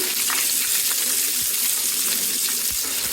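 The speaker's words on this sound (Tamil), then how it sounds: "நறுக்கி வச்ச சின்ன வெங்காயம் இதையும் சேர்த்து நம்ம நல்லா வதக்கிக்கலாம்" A steady, loud sizzle of shallots sautéing in a hot pan for mutton curry, continuous hiss with small pops throughout.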